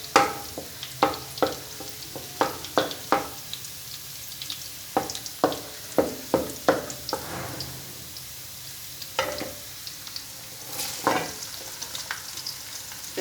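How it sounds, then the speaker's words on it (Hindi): Onions fry and brown alongside garlic in a pan for dhaba-style chana dal, giving a soft continuous sizzle with sharp, irregular spoon scrapes and clacks from stirring close by, and nobody speaking. "प्याज को भी हल्का ब्राउन कर लेते हैं।"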